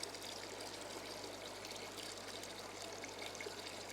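Aquarium water from a planted tank pouring into a bucket during a water change, a soft, steady splashing trickle that is faint and continuous, with no speech.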